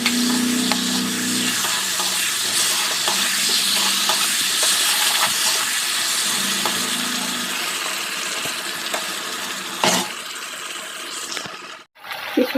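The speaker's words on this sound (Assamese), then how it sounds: "বেঙেনাখিনি দি দিলোঁ আৰু ইয়াতে অলপ ভালকৈ লৰাই দিম।" Chopped eggplant sizzles steadily in a hot pan while a spatula stirs and scrapes it, a continuous loud frying hiss with intermittent clanks, then a brief pause near the end.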